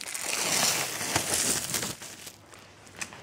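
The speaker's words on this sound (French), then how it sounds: "Je retire le papier film" Plastic cling film peeled off a frozen yule log, a close crinkling rustle that fades after a couple of seconds.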